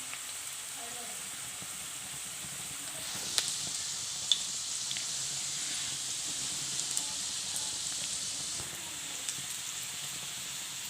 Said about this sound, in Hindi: ये फ्राई होना स्टार्ट हो गए हैं।